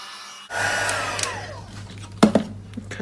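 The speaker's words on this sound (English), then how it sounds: "I'm going to hit this with the heat tool" A heat tool drying ink on a stamped card switches on with a sudden whoosh and blows a steady close airy hiss, with a couple of brief knocks near the end.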